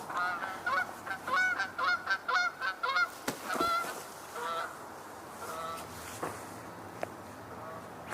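Two geese fly fast overhead, giving a rapid series of rhythmic, fairly close honks that fade after a few seconds, leaving outdoor ambience with a few faint knocks.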